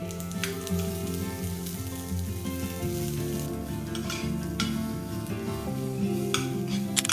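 Onions fry in hot oil toward dark brown with a constant loud sizzle, broken by occasional clinks and scrapes of a utensil stirring the pan.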